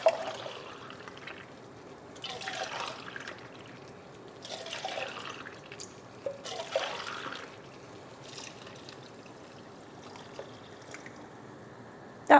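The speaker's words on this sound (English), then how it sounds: "I also want to add a whole can of water. So I'm going to fill one of these, do the rinse thing" Water runs from a tap into an empty tomato can for rinsing, in several short pouring and splashing bursts separated by pauses, fairly quiet and close, with no talking.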